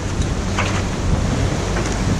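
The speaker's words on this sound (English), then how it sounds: "the water is starting to churn up a bit" Choppy sea water churning and sloshing against a sailing boat's hull as the tide turns and current runs in light wind, a steady broadband wash with low rumble and brief splashes throughout.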